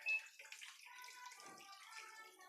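A washing machine drains its full load of water while on the spin cycle during servicing, giving a quiet, steady rush and gurgle of flowing water with no talk.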